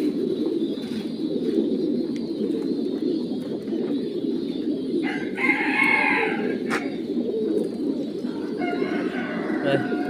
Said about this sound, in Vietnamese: Chim đấy các bác